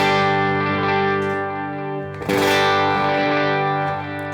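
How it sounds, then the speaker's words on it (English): A sustained, heavily processed electric guitar chord rings out with effects through a pedalboard summed to mono, narrowing and thinning partway through before swelling back up, loud and close. "This is mono mode. Kind of sums the whole signal, which you can hear probably."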